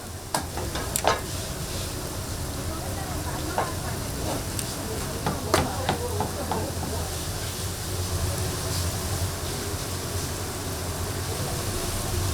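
Twisted doughnuts frying in clean oil at a long-running market doughnut stall in Yeongcheon, a steady bubbling sizzle with clatter and voices from the busy stall throughout.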